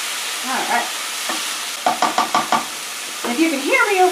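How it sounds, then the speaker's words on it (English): Steady frying sizzle of noodles in a pan for tofu ramen, with a burst of quick scraping stirs partway through, plus some clattery movement; no talking. "If you can hear me over the sizzling"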